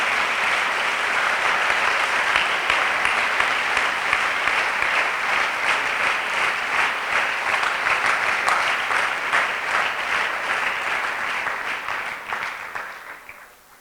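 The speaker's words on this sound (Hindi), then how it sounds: "हम अपनी प्यारी बहन के लिए तालियां बजाकर उनका शुक्रिया अदा करेंगे।" An audience gives sustained applause to thank a woman who helped with the event, a long, even wash of clapping from many hands that tapers off at the end.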